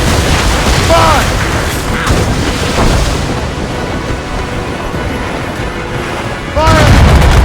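Ship cannons booming during a naval battle in Assassin's Creed Rogue, dull heavy blasts over a constant roar of sea and wind, with brief shouted voices near the beginning and a louder burst at the end.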